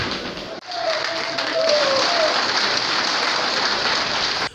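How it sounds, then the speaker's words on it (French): A municipal council in Dschang applauds its new executive, sustained dense clapping from a hall full of people that holds steady for several seconds, with a brief voice briefly audible over it. "ces applaudissements acclament, en guise d'approbation d'une volonté unanime par le scrutin, le nouvel exécutif de la commune de Tchang"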